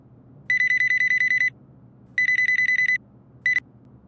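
Telephone ringtone sounding as a call is placed, heard as two bursts of rapid electronic trilling rings and a short third burst, loud and clear against a quiet background.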